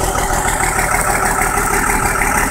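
Diesel engine of a CJ-X mud buggy rock crawling, a loud steady low rumble with a knocking idle throb, close and continuous with no talk.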